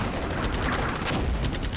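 Artillery fire in the war video game Armored Brigade 2: a steady, rumbling barrage of distant explosions and crackling impacts merging into a dense roar, with no speech.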